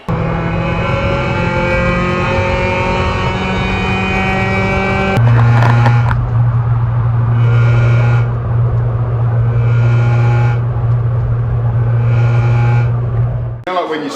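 A car's old factory exhaust, heard before a Tegiwa exhaust is fitted, drones and revs steadily up close with a low hum that rises and holds, while people talk over parts of it.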